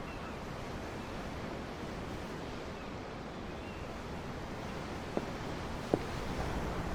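Ocean waves in the Tales of Arise video game wash steadily as a continuous broadband surf hiss, with two brief faint clicks near the end.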